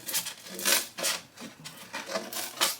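Repeated rough snipping and rasping strokes, about six or seven in a loose rhythm, close up, as scissors struggle through stiff pot holder material.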